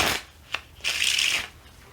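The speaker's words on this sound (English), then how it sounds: "if you can riffle shuffle the cards," Close cards riffle in a short fluttering burst, preceded by a few soft taps and rubbing of the deck.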